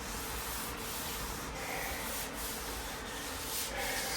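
Hand sanding of a car body panel during paint prep, a close, steady rasping rub with regular back-and-forth strokes and no talking.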